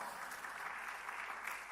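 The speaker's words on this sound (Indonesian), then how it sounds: "Yang percaya sekali lagi beri tepuk tangan bagi Allah" A church congregation applauds at a worship service, producing a steady, dense wash of clapping held at a fairly distant, faint level with no voices standing out.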